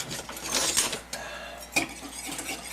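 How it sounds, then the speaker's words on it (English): A spoon stirs a beef jerky marinade with spices in a bowl, giving soft scraping and swishing with a few light clinks against the bowl, close and fairly quiet. "Mix it up a little bit and let those spices rehydrate"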